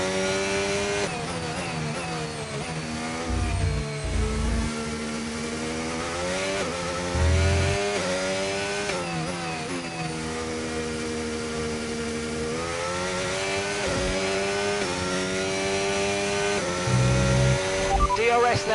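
A Formula 1 car in the F1 25 video game accelerates, its high-pitched engine whine repeatedly rising through the gears with short drops at each shift, loud and continuous, with a voice talking over it.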